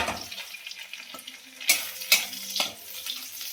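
Whole garlic cloves and onion frying in oil for a Bengali fish curry, a steady close sizzle with a few sharp louder pops and stirring scrapes.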